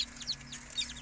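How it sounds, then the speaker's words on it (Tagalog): Newly hatched chicks peep in a short burst of thin, high chirps, a few overlapping calls at close range over a soft background hum. "Ngayon ito yun na yung mga sisiw, oh."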